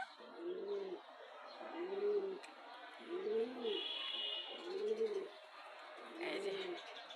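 Domestic pigeons coo in a steady series of about five soft, rounded calls close by, with faint chirps and background noise between them; no distinct chicken calls stand out.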